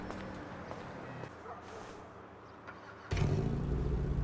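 A Nissan Silvia S15 engine in GTA 5 cranks and fires at the end, roaring to life loudly with wastegate sound after a quieter stretch of background noise.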